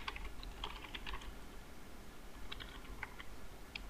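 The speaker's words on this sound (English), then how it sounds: "Now you can type 25 characters" Quiet, close typing on a computer keyboard while filling a PDF form field, bursts of light key clicks over a faint steady hum, with no voices.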